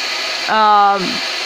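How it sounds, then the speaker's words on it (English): A blow dryer runs on high with a steady, loud, close whirring roar throughout, while a voice briefly sounds over it. "And so I have the blow dryer on high."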